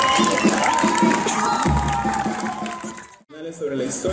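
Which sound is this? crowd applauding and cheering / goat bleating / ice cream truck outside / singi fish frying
crowd applauding and cheering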